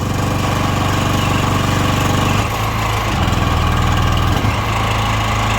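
A WEIMA WM2500 generator runs under maximum load, with a steady, loud engine drone whose pitch dips briefly as the load shifts, then holds continuous and close with no talk.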